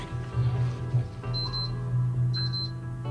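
Two short bursts of rapid, high electronic beeping from a device in the Russian zombie series Zombety, each lasting under half a second and separated by about a second, over a steady low hum.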